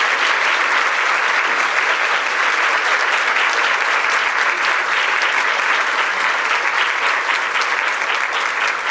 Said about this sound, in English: Please give our panel a great round of applause.